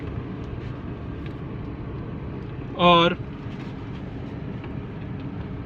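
A car pulls forward as the driver lets the clutch out during a driving lesson, giving a steady low interior drone that runs throughout, with one brief spoken word in the middle.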